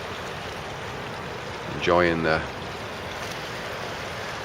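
A river flows past river-washed rocks beneath snow-capped peaks on a bright evening, a steady close wash of rushing water, with a brief spoken phrase partway through.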